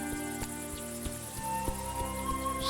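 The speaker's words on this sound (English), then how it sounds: "To wind stroking grass, cricket orchestras, sounds all so new." A cricket chorus in the video game A Juggler's Tale: a steady, moderate field of chirping insects over faint tonal ambience, with no voices.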